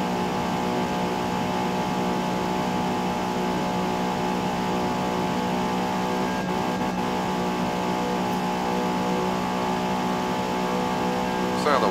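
In Forza Motorsport, a pony car's engine drones at a constant high pitch down a straightaway, a loud, unbroken tone held near the top of the rev range, with a slight flutter toward the end.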